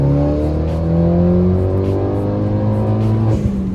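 A custom-built Fiat with a tuned 1.4 litre engine accelerates hard down a circuit back straight, its loud, steady engine note climbing through the gears, close and alone with no talk.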